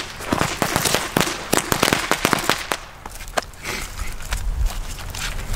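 A spider-shaped firework built from 0.5 gram firecrackers goes off in a rapid, irregular string of sharp cracks and pops, some near and some farther away, for several seconds.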